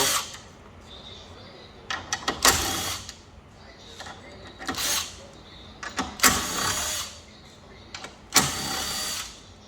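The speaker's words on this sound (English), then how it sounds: "now we get our 10mm and just pop these bolts on." A 10mm socket ratchet tightening grille bolts on a Silverado 2500 HD, several short bursts of rapid ratcheting clicks separated by pauses, close and fairly quiet.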